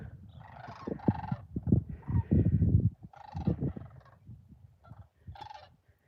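Turkeys gobble outdoors in several short, rattling bursts spread across a few seconds, moderately distant and fairly faint, with some low rustling and thumping between calls.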